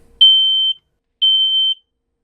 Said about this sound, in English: First thing to check is the smoke detector. Is that still working?